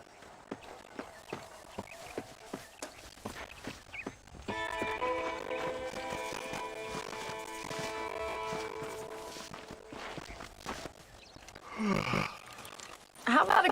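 Horse hooves clip-clop at a steady walking rhythm in the Red Dead Redemption video game for the first few seconds, then a sustained musical tone and ambient noise take over.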